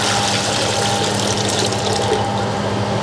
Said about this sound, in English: we put the 2 liters of water in the pot.